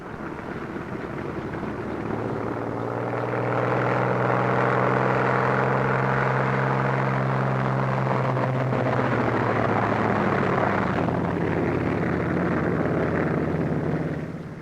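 A pair of military aircraft taxiing out, their engines producing a steady, loud droning roar with layered tonal hum that swells slightly and holds constant, no voices.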